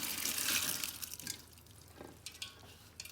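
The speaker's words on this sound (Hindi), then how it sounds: "इसी के अंदर डालते हैं पानी।" Water is poured into a big tub of lentils for haleem. A loud, splashing rush comes first and then thins to a few scattered drips and trickles, close by with no talk.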